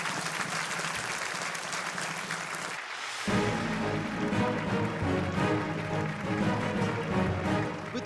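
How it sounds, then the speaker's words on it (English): Loud, dense applause from a large audience at the grand finale of an engineering quiz in Chennai, cheering the winning team; clapping runs steadily, then swells fuller as music or crowd noise joins midway. "Give them a big round of applause"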